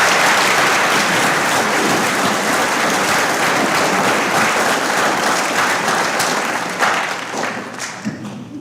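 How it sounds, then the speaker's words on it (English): A school awards program audience applauds scholarship signees in a big round of clapping, loud and dense from the start, thinning slightly toward the end with a couple of closer claps standing out. "Let's have a big round of applause for that group's generosity"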